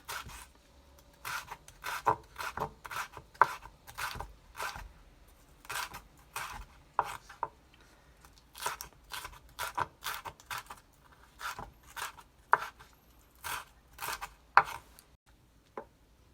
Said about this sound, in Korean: 청양고추는 좀 가늘게 썰어요